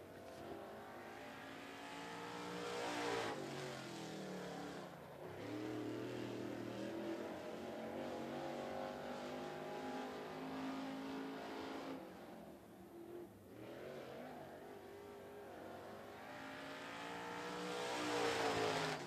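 A Limited Late Model race car laps 411 Motor Speedway, its engine howl swelling as it nears, fading down the straight, then roaring close again, with no talk.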